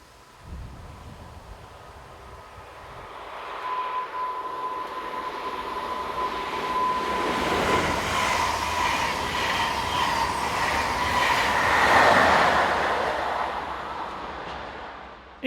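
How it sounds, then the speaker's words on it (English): A DB Class 120 electric locomotive brings up the rear of a Hanover–Stuttgart train passing a station platform, a rising, rumbling roll of wheels and carriages with a rail squeal that peaks, then fades. "This is the view from the station platform as 120-151 brings up the rear of the 1156 from Hanover to Stuttgart."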